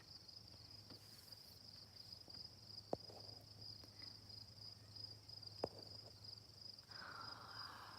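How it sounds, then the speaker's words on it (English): Crickets chirp in a constant high-pitched trill, faint and steady, with a couple of soft clicks and rustles nearby. "it's crickets all day long"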